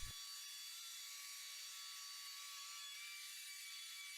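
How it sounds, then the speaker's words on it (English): An electric planer fitted with clip-on shims trims timber for a wooden frame house. A brief knock opens a sustained high whine and hiss of the cutter running steadily and evenly, with no speech. "custom shims are clipped onto the planer to control blade depth and remove more material from high spots"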